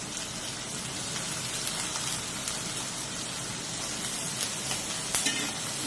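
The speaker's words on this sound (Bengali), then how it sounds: "আলুটা ভালো করে ভেজে নেবো, কড়া করে সুন্দর করে ভেজে নেবো" Potatoes frying in oil, a dense continuous crackling sizzle heard close and fairly soft, with a few faint stirring scrapes, for a Bengali mocha ghanto (banana flower) dish.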